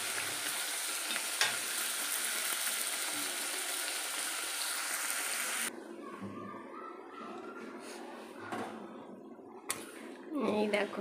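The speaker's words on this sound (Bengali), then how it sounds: "আর এই হচ্ছে যে মাটনটা কষা হচ্ছে।" Mutton is stir-fried in a pan with a steady bubbling sizzle that drops quieter midway, broken by occasional stirring clatter, while someone speaks over it.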